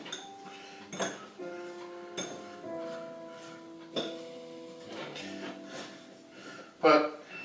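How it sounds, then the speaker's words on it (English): Apple pieces tossed with curry powder in a bowl for cauliflower apple curry soup, giving a few scattered clinks and scrapes of utensil against dish while a person talks throughout. "I'm going to mix this up so the curry powder covers all the apple"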